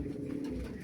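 Avanza pigeons, hens among them, coo in a loft, a steady low murmuring rumble lasting under a second with no talk.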